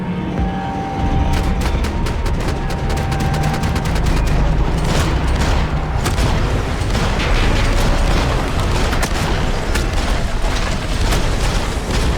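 Rapid gunfire in the shooter game Max Payne 3: dense bursts of shots and booming impacts, loud and continuous, with no talk over it.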